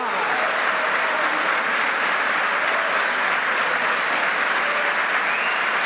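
Loud, even applause from a congregation at a REMAR congress worship gathering, a thick wash of many hands clapping continuously for about six seconds without pause or speech.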